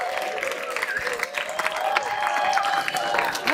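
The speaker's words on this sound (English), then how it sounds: "please give a loud round of applause for Dulce de Leche and Persia." An audience applauds and cheers for performers being introduced at a live show, a loud steady wash of clapping with whoops and a few voices mixed in, filling the whole moment.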